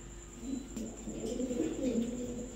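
Pigeons at a breeder's loft coo in low, soft, rolling phrases through most of the moment, moderately close and fairly steady, with a faint background hum and no talk.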